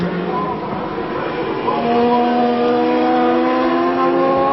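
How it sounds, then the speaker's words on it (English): A Norton 750cc racing motorcycle at Brands Hatch in a 1992 Supercup race screams past with a loud, rising engine whine, the pitch climbing as it goes through; a commentator talks over it. "the Norton is blisteringly quick down through here"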